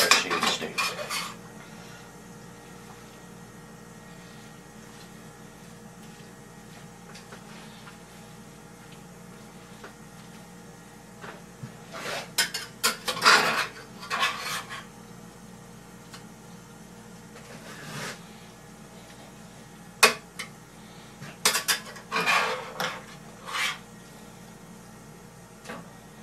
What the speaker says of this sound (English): with a spatula, flip it around so that way it gets butter all over it